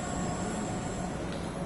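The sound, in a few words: train running in Train Sim World 5 video game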